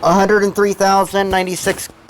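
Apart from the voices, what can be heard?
No everyday noises stand out.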